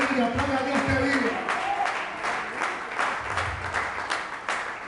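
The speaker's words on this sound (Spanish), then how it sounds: "aplaude a Dios que vive." A church congregation applauds in worship, a steady wash of many hands clapping close and fairly loud, with a voice talking over it at moments.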